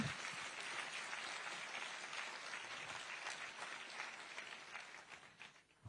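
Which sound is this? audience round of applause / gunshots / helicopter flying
audience round of applause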